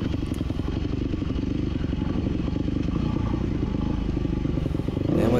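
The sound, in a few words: off-road motorcycle on single track trail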